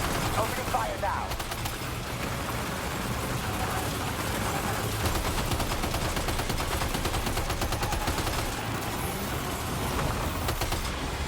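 Continuous automatic weapon fire from a Death Stranding 2 firefight crackles in dense, unbroken bursts, loud and close, layered over a low rumbling engine-like hum.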